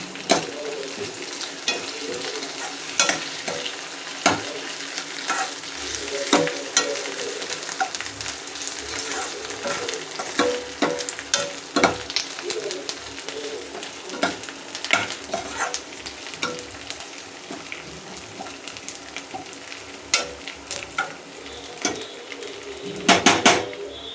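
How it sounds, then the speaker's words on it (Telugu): Fresh curry leaves sizzling in hot oil, a continuous bright crackle with sharp popping bursts and occasional utensil clinks against the pan, close and steady for the whole stretch. "కరివేపాకు ఫ్రెష్ది వేసుకుంటున్నానండి నేను"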